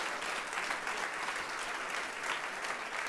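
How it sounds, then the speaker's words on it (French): A church congregation applauds at a teaching meeting, steady dense clapping held at an even level for several seconds without speech. "est-ce que déjà vous pouvez l'applaudir bien fort"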